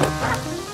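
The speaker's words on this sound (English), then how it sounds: "Don't keep barking" A single short dog bark or yip close by on an outdoor trail, loud and brief with a whimpering tail.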